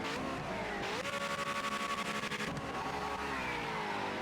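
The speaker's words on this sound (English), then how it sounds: "Load of wheel spin off the start." A race car in the Project Motor Racing video game spins its wheels off the start at sunset, its engine note held high and steady with a pulsing tire whine, loud and continuous over a few seconds.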